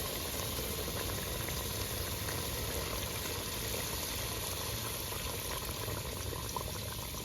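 Gravy boiling in a pot after water has been added, a continuous even bubbling hiss that stays constant and close, with no talk.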